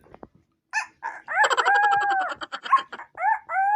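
A voice imitates a chicken with quick clucking bursts and a short crowing-like call, close and fairly loud, ending in rising squawks.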